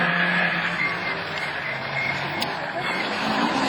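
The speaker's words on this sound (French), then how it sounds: "Elle marche la Honda Civic" Honda Civic rallycross car racing at a French championship round in Lavaré, engine roaring continuously at distance beneath crowd ambience, with a sustained whining tone.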